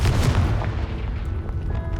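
A Confringo spell bursts in Hogwarts Legacy with a loud, deep boom at the start that rolls off into a fading rumble and scattered debris crackle, heard alone.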